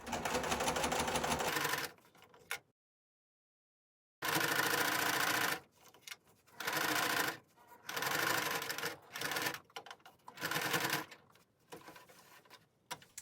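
A sewing machine stitches bias tape onto the curved edge of a fabric mask, running in loud mechanical bursts of rapid needle clatter separated by short stops and one longer silence.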